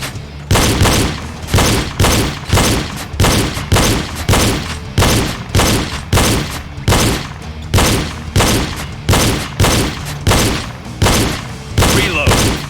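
Pistol fire during a shooting drill, more than a dozen loud, close shots spaced almost evenly in a fast, steady cadence, each with a short echoing decay.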